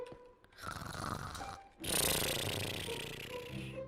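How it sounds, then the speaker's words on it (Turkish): Loud, rasping snores in two long breaths, the second harsher and more drawn out, close and unaccompanied by talk. "Onlar horlamaya devam ederken Akif arkaya horlama sesi koy e"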